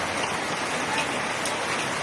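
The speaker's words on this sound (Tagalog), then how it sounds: "As in po talaga, malakas yung ulan." Heavy rain pours down steadily as a dense, unbroken hiss with no pauses, filling the whole scene evenly and loudly, with no voices heard.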